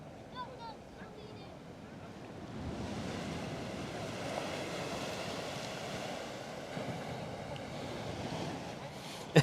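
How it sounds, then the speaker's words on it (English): Ocean waves wash onto the beach at Coney Island at sunset, a steady broadband surf roar that swells after a few seconds, with wind noise and faint voices underneath. "enjoy the sound of the waves for a few more moments"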